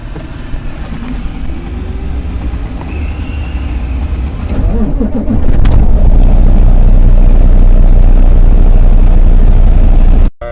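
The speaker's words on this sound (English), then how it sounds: "Let's crank this truck up." A flatbed semi truck engine cranks and rumbles to life, a deep idle rising and holding loud and steady with no talk over it.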